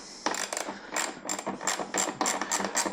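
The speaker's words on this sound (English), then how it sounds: "So we're replacing these screws," Screws come out of a motorcycle mount with a ratcheting tool, a rapid, clicky mechanical rattle in repeated bursts, close and fairly loud, with no voices.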